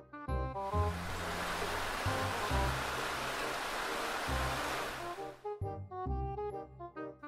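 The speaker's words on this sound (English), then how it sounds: "River." Rushing river water makes a steady broadband wash for about five seconds. It sits under light background music that carries on alone once the water fades.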